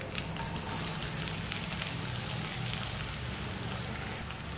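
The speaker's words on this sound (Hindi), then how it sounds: "मेरा प्याज हो गया गोल्डन कलर, जैसे मैंने फ्राई कर लिए।" Onions sizzle in hot oil with cumin seeds and curry leaves in a kadai while drumstick sabji is cooked, a steady, dense crackling fry with no pauses and no voices.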